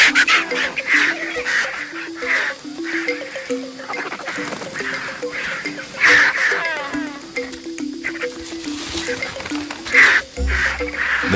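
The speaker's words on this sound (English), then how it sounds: "The vultures are not intimidated. The marabou stalks the vultures for any piece of meat." Vultures and marabou storks squabble over a carcass on the African savanna, a busy chorus of harsh squawks, hisses and croaks that stays loud and continuous throughout.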